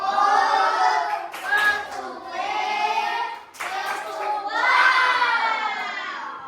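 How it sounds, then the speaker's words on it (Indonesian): A class of children clapping hands in rhythmic bursts, their shouts and voices mixed in, loud and close, with brief pauses between rounds. "Kita beri tepuk tangan"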